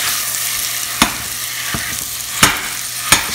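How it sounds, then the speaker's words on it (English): Soft BBQ sweet potato is mixed with a spoon in a sizzling pan, a continuous frying hiss broken by four sharp scraping clacks of the spoon at uneven intervals, close and fairly loud. "Then mix it well."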